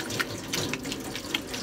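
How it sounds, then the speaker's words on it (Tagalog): A cloth face mask is rinsed under running tap water, with a steady splashing stream broken by irregular splashes and sloshes as the fabric is moved, close and moderately loud. "ang gagawin nyo naman po ay babanlawan po siya ng mabuti. Ganyan lang po ang pagbabanlaw."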